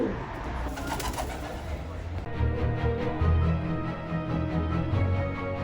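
A pigeon coos in low, repeated throaty phrases close by on a market-town street in the Cotswolds, England, with a faint murmur of voices and outdoor ambience underneath.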